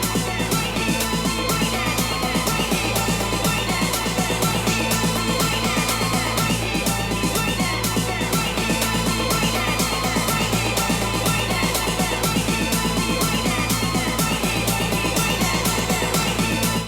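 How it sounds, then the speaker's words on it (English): Dense electronic dance track in a build-up with a half-beat echo effect, a loud continuous wash of pounding beats and repeating synth notes smearing into each other, steady throughout. "just add some half a beat echo to this and have a listen to the difference"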